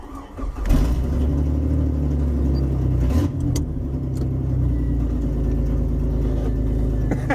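Engine of a 1995 Ford Escort wagon running steadily, a low continuous rumble close by, with a brief rise in revs early on and a short shift around the three-second mark, no talking.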